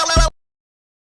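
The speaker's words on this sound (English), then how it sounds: "This is the sound of a robot." A brief synthetic robot noise, a bright buzzing electronic burst about a third of a second long, stops abruptly into silence.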